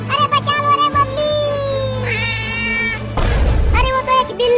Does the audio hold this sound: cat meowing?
yes